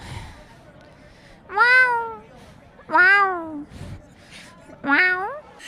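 Three drawn-out meows voiced by a woman imitating a cat, spaced a second or so apart, clear and close in a quiet room.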